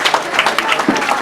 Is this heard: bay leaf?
no